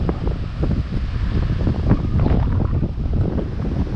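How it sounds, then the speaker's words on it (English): Strong, steady wind gusts buffet the microphone on the Grand Mesa West Bench Trail near a waterfall and bridge, a loud continuous roar with no voices. "it's really windy"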